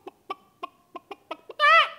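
A performer's voice imitates a chicken: a string of about eight short, evenly paced clucks, ending in a longer, drawn-out squawk, close and clear.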